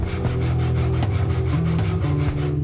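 A hand saw cuts through the wooden top frame of a jobsite table saw stand, a loud, close rhythmic back-and-forth rasp with about ten quick strokes and no talking.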